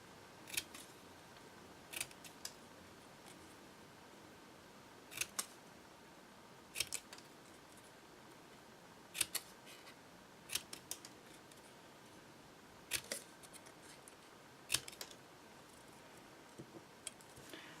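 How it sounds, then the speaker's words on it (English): Scissors snip a V shape into flower petals, sharp isolated cuts coming singly or in quick pairs every couple of seconds against a quiet background. "So we're just going to cut a V out of all the petals."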